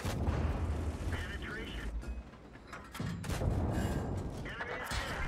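Tank cannon shots and booming impacts in the tank battle game World of Tanks, several heavy blasts with mechanical clatter and synthetic voices talking throughout.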